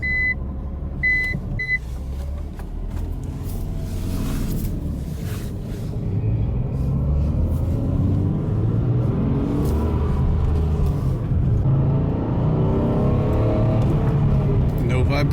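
A Chevrolet Impala cruising steadily after a drive shaft repair, its low engine and road rumble continuous and close throughout, with a few faint beeps early on and someone talking over it at times.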